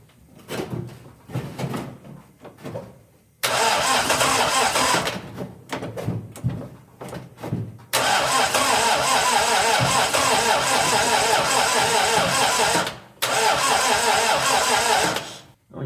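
A 1961 Triumph TR3A with a high-torque starter cranks in two long bursts, loud and close, with a steady churning whir and clicks and clunks between attempts.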